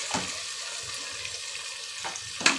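Ground onion-coconut masala frying in a pan, a soft steady sizzle with a couple of stirring scrapes and a sharp utensil clink at the end, quiet and close, no talking.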